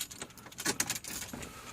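A GM VATS resistor car key and keyring jangle close up in a short burst of bright metallic clinks, with no talking.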